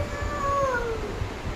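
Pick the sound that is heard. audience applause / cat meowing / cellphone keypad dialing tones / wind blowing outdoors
cat meowing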